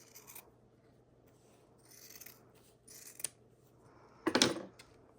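Scissors cutting through fabric scraps for a mixed media journal, several short crisp snips and a longer rasping cut near the end, close and quiet with pauses between.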